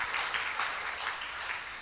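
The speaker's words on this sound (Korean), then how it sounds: "힘찬 박수로 한번 격려하겠습니다" A church congregation claps in encouragement for a member leaving for Canada, a brief, fairly quiet burst of steady applause throughout.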